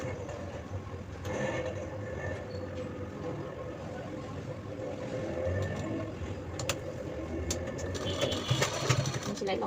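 A sewing machine stitches a handle onto a small cloth bag with a continuous close mechanical whir, while someone talks over it throughout.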